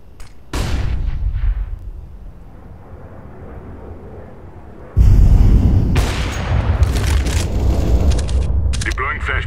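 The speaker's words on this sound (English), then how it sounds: "Throwing flashbang." A flashbang grenade detonates in Counter-Strike: Global Offensive, a loud booming blast that cuts in abruptly and is followed by rumbling, crackling game noise, with a burst of louder sound again midway through.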